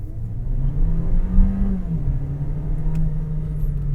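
A Volkswagen Golf 1.4 TSI R-Line with an 8-speed automatic rumbles steadily and rises in pitch as it accelerates hard uphill, turbo lag audible, a constant low hum close by with no talking.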